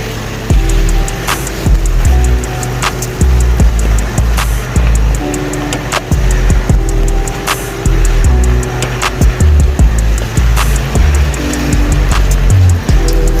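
A Triton car drives up a hill on a rainy day in Samoa, its engine droning loud and close with bumps and rattles throughout, and no one speaks.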